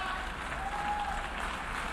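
Applause in the UN General Assembly hall, some people standing as they clap, a dense, fairly soft wash of clapping from across a large room with no talk over it.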